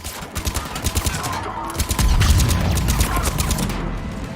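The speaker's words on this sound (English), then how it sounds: "Cannons initializing." Defense cannons on a spaceship firing in the video game Mass Effect 3, heard as rapid repeated booming shots in a steady volley, loud and close, with a heavy rumbling barrage building midway.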